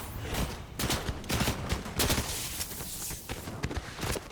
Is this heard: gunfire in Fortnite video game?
yes